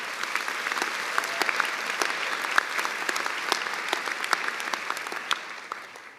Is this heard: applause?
yes